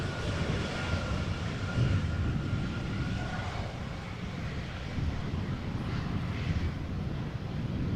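A KLM Airbus A330-300 on arrival at Amsterdam Schiphol Airport in crosswind gives a steady, broad jet roar at a moderate distance, unbroken throughout with no talk.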